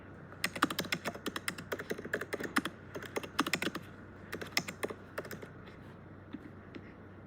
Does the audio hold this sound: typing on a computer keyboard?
yes